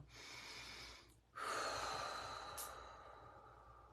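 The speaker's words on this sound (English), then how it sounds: "Just take a breath now." A person draws a deep breath, a long airy inhale followed by a stronger, louder breath that tapers off slowly, close and alone.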